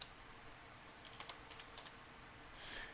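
Quiet typing on a computer keyboard, a short run of light clicking keystrokes in the middle over a low background hum, ending with a soft rustle.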